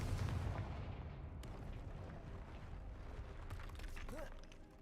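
A Confringo fire spell explodes in Hogwarts Legacy, heard as a faint, low rumbling boom that fades into a dull, crackling tail, with some mechanical creaks toward the end.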